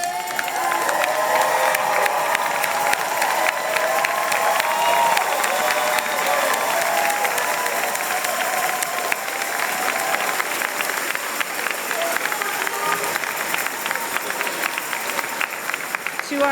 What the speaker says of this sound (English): please stand up so that we can give you a proper round of